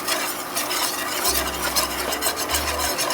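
A spoon stirring chili powder into a browning roux in a pan, a continuous scraping and faint sizzling texture, close and steady with no talking.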